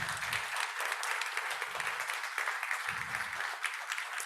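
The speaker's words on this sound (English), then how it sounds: "Let's give them one last round of applause" Conference audience at a European cultural heritage gathering applauds steadily throughout, a dense, fairly loud patter of many hands clapping without pause.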